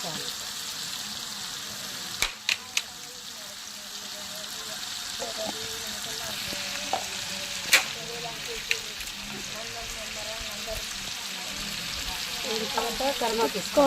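Chicken fry curry with turmeric being stirred in a pan, a steady soft sizzle of frying running throughout with occasional sharp clicks of the spoon against the pan.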